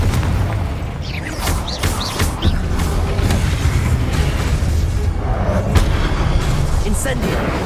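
Confringo blasting spell from Hogwarts Legacy, booming explosive bursts layered in a dense, loud battle mix, with a voice speaking over the rumbling impacts.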